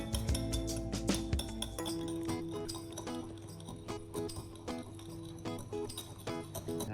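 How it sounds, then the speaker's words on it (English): Eggs beaten with a whisk in a kitchen bowl, fast rhythmic clinking and tapping that stays close and fairly loud throughout, with no one speaking. "Lily again participates by using a whisk to beat the eggs"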